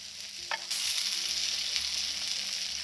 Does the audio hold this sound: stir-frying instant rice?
yes